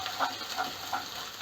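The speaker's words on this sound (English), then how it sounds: "Keep stirring a little bit" Butter chicken masala being stirred in a pan over a lowered flame, a soft background sizzle with three gentle scraping strokes at an even rhythm.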